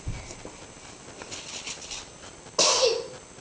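A single sharp sneeze, close and loud, bursts out near the end on Christmas morning, following a short stretch of quiet rustling.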